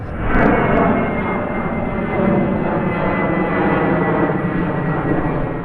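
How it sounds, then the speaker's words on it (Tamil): Inside a passenger airplane landing at Tel Aviv, the engines give a loud, steady roaring rumble that stays close and continuous throughout, with no talk. "டெல் நகரத்தில் நம்ம விமானம் தரையிறங்கும் காட்சியை நீங்கள் தற்பொழுது பார்த்து கொண்டிருக்கிறீர்கள்"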